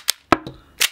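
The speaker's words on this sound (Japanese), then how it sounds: "でバンと撃ちましたと、ガシャコーンと" An MGC M1911A1 heavyweight model gun fires a cap with a sharp crack, then its slide cycles with a metallic clack, followed by another sharp snap, all close and isolated.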